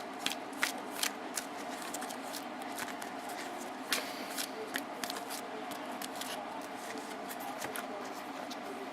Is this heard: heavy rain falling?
no